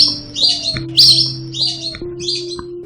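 A lesser whistling duck of wetland and farmland gives a repeated series of four sharp, high whistling calls, fairly loud and close, over a faint steady background hum.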